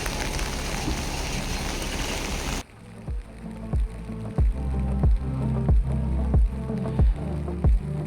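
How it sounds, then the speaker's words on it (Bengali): Light, cold rain at a hillside army camp above a town in Lachen, Sikkim, patters steadily on a surface, close and even, with faint droplet taps; a burst of louder wind or handling noise sits at the start. "বৃষ্টি যখনই হাতে পড়ছে পুরো হাত জমে যাচ্ছে"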